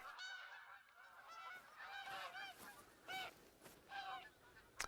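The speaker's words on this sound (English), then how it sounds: "here is also goose time, resting time. And so they're all coming to fly in and take a break." A flock of geese honking repeatedly as they fly in to rest during a hunting trip in the Yukon, several overlapping calls in bursts, fairly near and clear with no talking.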